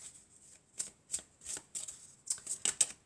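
Lovers' oracle cards shuffled by hand, a quick series of soft crisp riffling bursts in an uneven rhythm, close and quiet.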